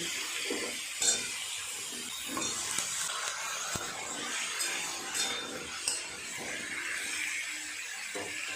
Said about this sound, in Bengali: কুমড়োটা কিছুটা ভেজে নিয়েছি দিয়ে দেবো কেটে রাখা আলু